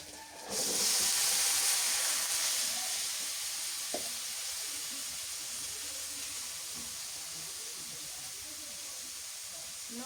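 Bitter gourd fries in a hot pan, breaking into a loud, steady sizzle and hiss after a brief quiet start, then holding an even crackle with small bubbling pops throughout.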